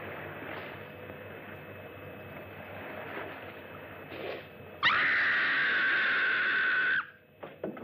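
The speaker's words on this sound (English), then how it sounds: "That was a scream." A woman lets out a loud, sustained scream lasting about two seconds in the 1960s horror film Horror of Spider Island, rising suddenly over a quiet, murky background and cutting off abruptly.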